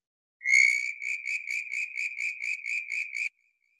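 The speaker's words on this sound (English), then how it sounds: "So the southern brown tree frog." A southern brown tree frog calling, a single long whistle-like note followed by a run of about ten rapid, evenly spaced pulsed chirps, close and clear against total silence.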